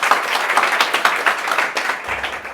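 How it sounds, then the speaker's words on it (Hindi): Audience applause at a Hindi-language corporate performance management event, dense steady clapping filling the room throughout with no talk over it. "एक बार जोरदार तालियां हो जाए"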